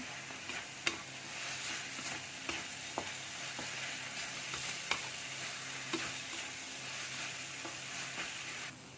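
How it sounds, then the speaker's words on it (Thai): Lemongrass, minced pork and chili paste are stir-fried in a pan until dry, giving a steady, soft sizzle. A spatula scrapes and taps at irregular moments, and no one speaks. "เดี๋ยวเราผัด จนน้ำเริ่มแห้งนะ ก็จะผัดให้แห้งดีนะ"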